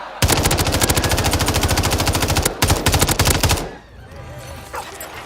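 Rapid automatic gunfire from a video game rattles in long, loud, continuous bursts, broken by a brief pause, then stops abruptly before a quieter tail.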